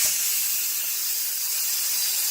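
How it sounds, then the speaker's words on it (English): Steam hisses steadily from the release valve of a Power Pressure Cooker XL holding enchilada pasta, a loud, continuous bright rush that stays even for a couple of seconds. "I'm going to release the valve."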